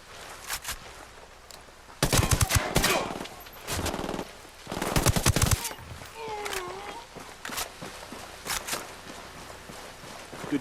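Gunfire in Ghost Recon Wildlands: loud bursts of automatic fire in clustered volleys with short gaps, followed by scattered single shots and a few faint calls in the background.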